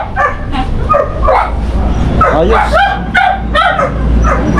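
Dog barking and yipping in short bursts, some whimpering, near and loud, with people talking over it.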